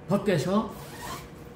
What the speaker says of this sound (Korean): 뒤에 지퍼를 열고